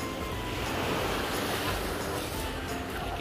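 Steady broadband wash of ocean surf at Little Batanes, Pangasinan, continuous and fairly loud, with wind rumble across the microphone and no distinct breaks between waves.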